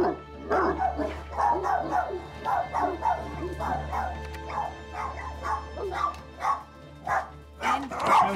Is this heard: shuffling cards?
no